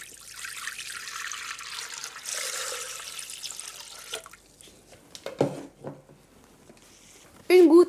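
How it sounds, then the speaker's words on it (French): Water pours into the bowl of a Thermomix TM7 kitchen appliance, a soft trickling hiss for a few seconds, followed by quieter splashes and clunks, with a short tonal beep at the end. "Et il va me suffire de mettre 1 litre d'eau à l'intérieur du bol."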